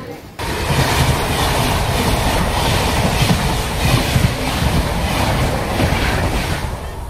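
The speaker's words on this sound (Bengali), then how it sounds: "এই আমাদের ট্রেন ছেড়ে দিয়েছে এনজিপি দিয়ে।" A train running steadily after pulling out of New Jalpaiguri station, a loud continuous rumble and rush of wheels on the track that starts abruptly and holds at an even level, with no voices.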